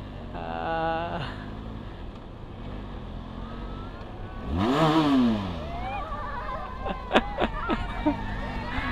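A Benelli TRK motorcycle on a ride: a steady engine drone with wind rush, swelling into a loud rise-and-fall rev midway, then settling back under lighter road noise.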